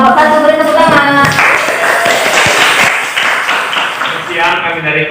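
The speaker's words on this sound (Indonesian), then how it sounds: "beri tepuk tangan." Audience applause for a student presentation group at the end of a talk on fungi, a dense burst of clapping with voices heard over it at the start and end.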